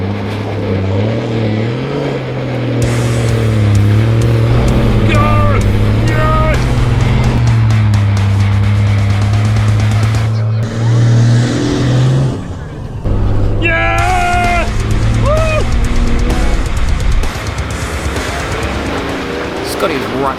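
A 4x4 truck in low range climbs a rutted track, its engine droning loud and close with rising and falling revs, a brief dip midway, and people talking over it.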